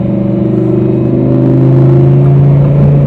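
A 2020 Lamborghini Huracan Evo on a test drive, its engine holding a loud, steady droning rumble with layered harmonic tones that climb gently in pitch, heard close and without talk.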